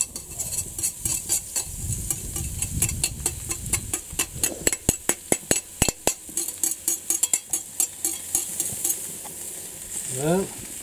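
Garlic and pork filet mignon sizzle on a hot plancha while a utensil stirs and scrapes in quick, loud repeated clacks, over a steady frying hiss with no talking.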